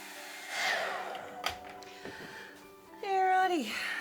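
A heat tool blows a steady whooshing roar over bleached fabric, rising twice in sustained bursts, with a voice talking and a brief high-pitched tonal sweep near the end.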